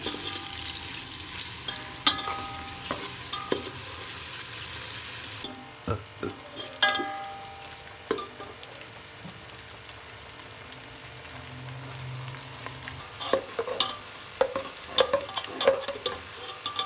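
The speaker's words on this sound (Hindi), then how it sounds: "प्याज को हम गोल्डन ब्राउन करेंगे ताकि ज़रा चनों का कलर अच्छा सा निकल आएगा ना" Onions frying in oil in a pan, with a soft steady sizzle, occasional stirring scrapes and clinks, close up and with no one talking.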